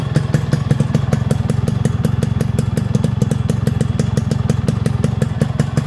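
A motorcycle engine, just rebuilt with new connecting rod, bearings, rings, piston and clutch work, idles close by with a fast, even thumping beat that stays loud and steady throughout.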